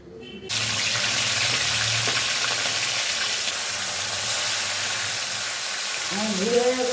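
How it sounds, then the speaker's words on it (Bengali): Oil heats in a kadai, a loud, steady hiss close by that begins abruptly and continues unbroken, with a voice speaking briefly near the end. "কড়াইতে দিচ্ছি তেল।"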